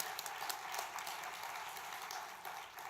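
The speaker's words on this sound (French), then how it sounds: "Les applaudissements sont pour le travail que vous avez fait pour y parvenir" A congress audience in Québec applauds, a faint, distant patter of many hands clapping steadily for a few seconds without voices over it.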